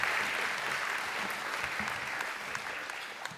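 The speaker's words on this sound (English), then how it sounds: "Can I have a round of applause for these people, please?" Sustained applause from an audience at a State of the City event, an even wash of many hands clapping that fades slightly toward the end, moderately distant and without speech.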